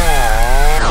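Revving chainsaw carried by a faceless enemy in the horror game Escape the Backrooms, a loud, close motor whine that climbs in pitch and then drops near the end, with no voices.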